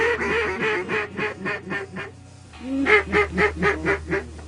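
Ducks quack loudly during a morning duck hunt, a steady run of rhythmic calls in two bursts separated by a brief lull, close and clear over a low background hum.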